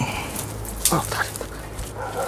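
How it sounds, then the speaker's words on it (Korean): A small dog gives a sharp yip and several brief whimpers amid people talking outdoors, the dog sounds short and intermittent under the voices. "강아지는 들어가면은 소리가 좀 줄어요."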